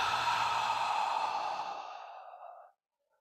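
A slow, deep exhale through the nose during a qi gong breathing exercise, one long airy breath that fades gradually and ends in silence, close and alone.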